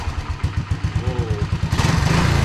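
A Honda ATC185S three-wheeler fitted with a Mikuni carburetor runs with a lean condition, its engine chugging close by in a steady pulsing rhythm that climbs slightly as the revs rise toward the end.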